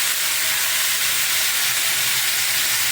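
Tomatoes frying in a pan make a dense, continuous sizzle, steady and close throughout with no pauses or talking.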